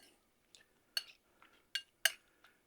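A utensil mixes seasoned shrimp with a spice blend in a bowl, making quiet, sparse clinks and scrapes, about five light taps at irregular moments against near silence.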